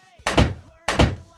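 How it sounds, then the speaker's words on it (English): A door closing, two solid thunks about half a second apart, close and loud with short decays and quiet between them. "Yes, that's a sound of door closing."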